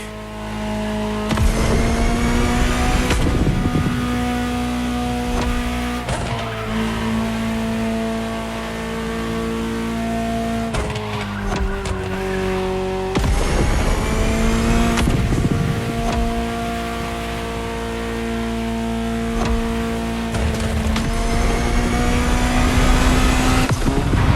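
A Ferrari supercar in The Crew Motorfest racing game roars loudly through repeated hard accelerations, engine pitch climbing sharply then dropping at each gear change, with occasional tire squeal and no talking.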